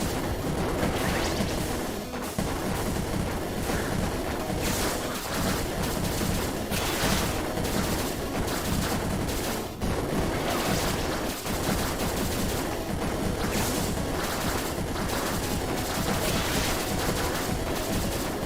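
Dense, nonstop gunfire and crashing impacts fill Exit the Gungeon as enemies shoot from every direction. Rapid shots, hits and explosions pile over one another at a steady, loud level with no pauses.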